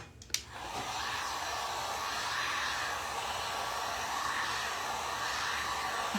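A hair dryer switches on after a brief click and blows a steady, even whoosh while drying paint on a hand-painted Santa tray, continuous and fairly close for several seconds with no talking.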